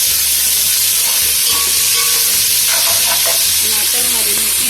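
Ginger garlic paste fries hard in a pot of browned onions and garam masala for chicken yakhni pulao, a loud, continuous sizzle with stirring and faint low background sounds.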